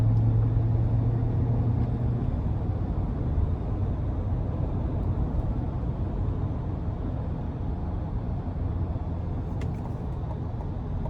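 Cabin drone from a 2024 GMC Sierra 1500 SLT X31 pickup with a 5.3-litre V8 while driving: a steady low engine and road rumble throughout, with no talking.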